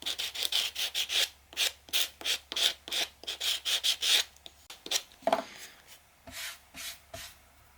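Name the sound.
sanding decoupage ornament edges with sanding block or sandpaper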